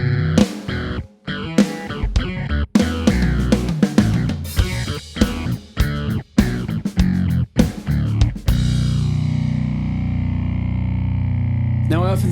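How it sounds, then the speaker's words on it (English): Electric guitar played through a Source Audio synth pedal set to a gated phaser tone, giving choppy, rhythmically gated stabs with sweeping phase, then a long sustained chord ringing out alone to the end. "But this one is called Gated Phaser."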